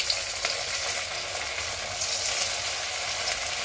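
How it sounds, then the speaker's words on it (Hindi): Sabudana vada fry in smoking-hot oil, a dense, steady, close sizzle and bubbling hiss that holds at an even level throughout with no pauses. "तो अब मैं इसमें डालूंगी तलने के लिए।"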